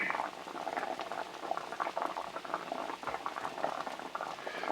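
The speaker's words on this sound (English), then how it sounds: "I'm going to pour the rest of this in there. I'm going to let that cook down." Liquid for braised meat simmers and reduces in a pan, making a dense, steady bubbling and popping patter at close range for the whole stretch, with no speech.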